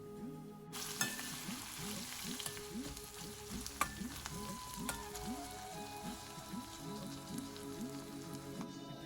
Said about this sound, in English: and not forgetting fresh curry leaves. Saute that for a few minutes until it's translucent.